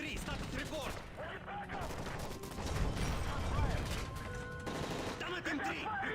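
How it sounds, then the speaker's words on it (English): Rapid automatic gunfire rattles through a plane hijacking scene in Call of Duty Modern Warfare 3, with bursts layered under urgent in-game voices and mechanical clatter. "That's gunfire! Hijackers are taking the plane!"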